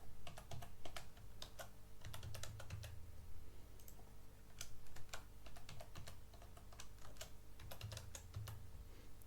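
A password being typed on a computer keyboard, with irregular bursts of quick key clicks and short pauses between them, heard close up over a faint background hum.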